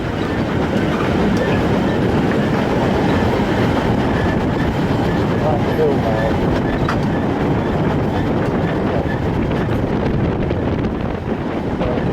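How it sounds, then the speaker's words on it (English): A locomotive pulling two steelworks torpedo wagons rumbles steadily with a dense, continuous roar and faint clickety-clack, wind buffeting the microphone throughout. "See an engine just pulling up with 2 torpedoes on now."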